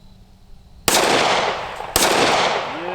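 Two loud, sharp pistol shots fired about a second apart with 30 Super Carry ammunition, each followed by a brief ringing decay outdoors.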